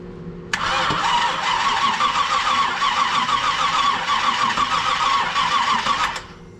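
An old car engine with a weak battery cranks briefly, then catches and runs in a steady rough clatter for several seconds before cutting off.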